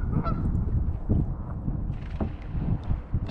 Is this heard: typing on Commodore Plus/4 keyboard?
no